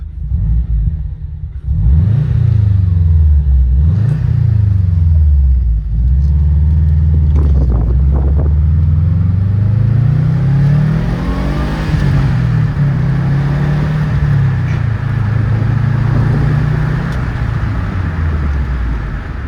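A 2012 Subaru WRX Impreza NGX fitted with new iridium spark plugs, its engine revving loud and close during a short drive, several rising and falling surges through the gears, then a steadier pull.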